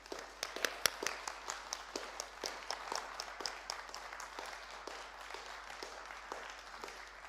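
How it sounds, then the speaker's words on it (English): Closing applause at the 2025 UK Bamboo Summit, a thin, even patter of claps from a smallish audience that holds steady and then slowly fades over a quiet room. "invite a last round of applause for everybody who's contributed and made this happen"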